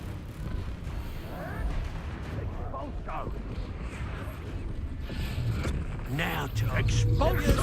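Repeated Expulso spell blasts in Hogwarts Legacy, a series of booming explosive bursts during combat, with a player shouting spell names over the continuous action.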